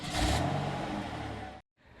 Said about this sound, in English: this exhaust note is quite impressive